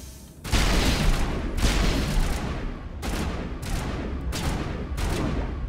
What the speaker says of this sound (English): Hey, stop shooting me in the fucking back.